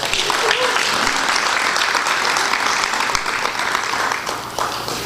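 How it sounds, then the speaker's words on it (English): Audience at a men's society arts and talent show fundraiser clapping steadily and loudly throughout, a dense sustained round of applause with scattered voices mixed in. "Can you all give him a hand clap?"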